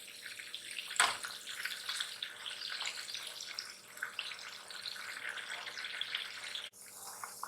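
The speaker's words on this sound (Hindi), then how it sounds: "इसमें इसको भी फ्राई करने के लिए छोड़ देते हैं।" Beef pieces left to fry in a pan over medium-low flame produce a steady, fairly faint sizzling crackle. A sharp clatter comes near the start, and no one speaks.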